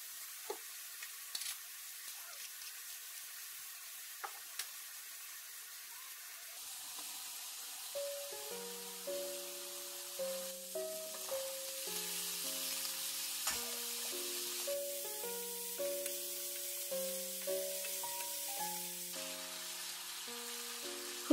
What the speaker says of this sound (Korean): 팬에 오일을 두르고 새송이 버섯을 볶아줍니다.